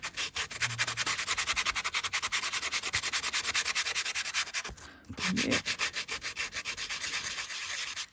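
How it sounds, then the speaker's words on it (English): A sanding buff rubs alcohol ink off a tag surface in a steady, fast back-and-forth scratchy rhythm, loud and close, with one brief pause midway before the rubbing resumes. "buff off the ink here"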